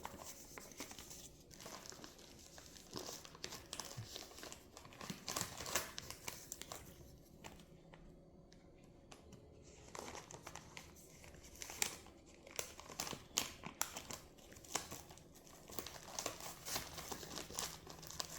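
A paper content declaration from a parcel is folded by hand, producing close, irregular crinkling and crumpling with brief sharper rustles, fairly faint and steady throughout with no talking.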